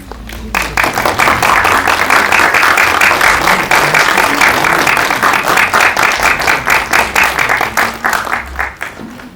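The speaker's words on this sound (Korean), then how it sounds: "따뜻한 박수로 맞아주시기 바랍니다" Audience applause welcoming the director, a funeral director and an estate organizer onto the stage at a documentary press screening Q&A: dense, loud, sustained clapping from a crowd that continues for several seconds and tapers toward the end.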